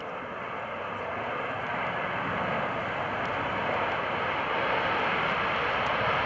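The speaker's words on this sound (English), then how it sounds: "Look to the left now for the Navy's FA-18 Hornet on the roll." A Navy F/A-18C Hornet jet takes off at an airshow in Portsmouth, a loud, steady broadband roar that holds strong and swells slightly over several seconds, with no talking over it.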